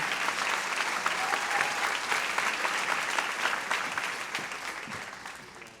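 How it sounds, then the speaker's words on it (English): A graduating Montessori academy class and audience give a steady, dense round of applause that fades gently toward the end, with no talk. "Give yourselves a round of applause"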